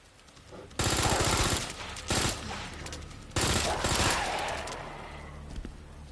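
Rapid bursts of gunfire from the Resident Evil 2 video game, loud automatic volleys in two long stretches separated by a brief shot cluster, fading into echoing reports.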